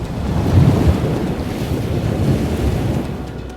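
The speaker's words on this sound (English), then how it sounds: "Typhoons and tropical storms can create immense waves." Large typhoon-driven waves crash and surge under a strong, steady wind that roars across the microphone, a dense, continuous wash of water and gusting air with no voices.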